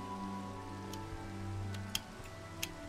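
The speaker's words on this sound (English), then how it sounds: "rain, now I can't see." Rain falling in the video game Minecraft, a steady soft patter with a low background hum and a few brief ticks, fairly quiet throughout.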